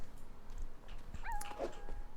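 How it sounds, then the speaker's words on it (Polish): A black puppy in The Sims 4 gives a few short, high whimpers and yips, faint and close over a quiet game background. "O, już piesek jest?"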